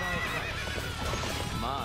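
A horse whinnies in Dynasty Warriors 8 Empires amid hooves clip-clopping and busy battle game noise, the neigh rising near the end over a steady dense background.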